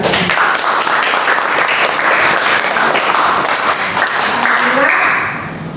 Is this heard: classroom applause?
yes